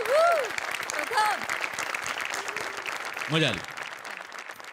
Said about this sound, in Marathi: प्रथमेशसाठी जोरदार टाळ्या व्हायला.